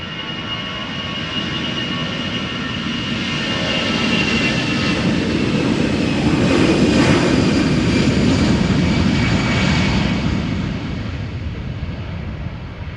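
Airliner jet engines roaring during takeoff at Amsterdam Schiphol Airport, a loud broad rumbling rush that swells toward the middle and holds steady, heard from a distance with no talking.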